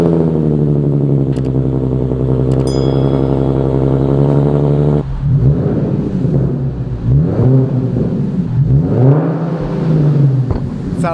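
A Nissan 370Z Nismo engine cold-starts with a loud roar, settles into a rumbling idle, then revs up and down a few times in an echoing parking garage.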